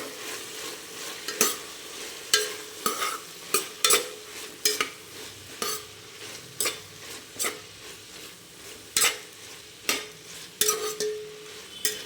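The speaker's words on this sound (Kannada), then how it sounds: "ಫ್ರೈ ಆದಮೇಲೆ ಇದನ್ನು ಈ ಥರ ಚೆನ್ನಾಗಿ ಮಿಕ್ಸ್ ಮಾಡಬೇಕು." Pulao vegetables including beans frying in a pan while a spoon stirs them, steady sizzling under regular sharp scrapes and clinks of utensil against metal, close and clear with no talk.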